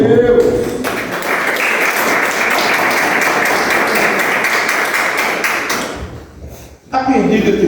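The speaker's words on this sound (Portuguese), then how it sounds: "Pode bater palmas para Jesus, irmão?" A church congregation claps for Jesus during a Portuguese-language sermon, loud dense applause filling the hall for several seconds before breaking off into a brief pause and a short final burst.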